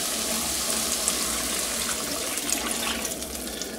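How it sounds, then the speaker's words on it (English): Three cups of water pour from a container into Japanese curry in a cooking pot, giving a continuous splashing rush that stays steady and fairly close for the whole short stretch, with no talking. "Here's the 3 cups of water."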